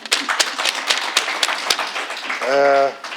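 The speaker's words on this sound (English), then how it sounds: "Can we give a round of applause?" A small forum audience claps in a brief, uneven round of taps and claps, ending with a sustained, tonal music sting that rises above the applause.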